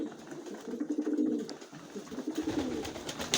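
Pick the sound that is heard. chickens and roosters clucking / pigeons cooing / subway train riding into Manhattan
pigeons cooing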